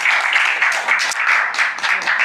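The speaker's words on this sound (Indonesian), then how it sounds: "Kita tepuk tangan dulu lah buat semua" Applause from a seated audience at a religious study gathering on fasting, a brisk wash of clapping that swells in uneven bursts, fairly close and without talk over it.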